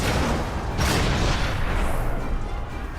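Cannon fire in Final Fantasy XIV booms in a dense, roaring wash of game sound, loud and continuous for a few seconds with a heavier blast near the start, no talking.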